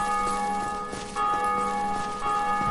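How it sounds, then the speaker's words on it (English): A bell rings in Dark Souls with a sustained, shimmering metallic tone and several faint repeated strikes layered over a quiet background. "There's that fucking bell again."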